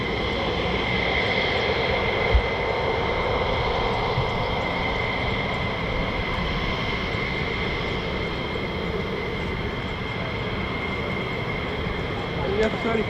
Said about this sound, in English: 1 million F-35s now just taxiing now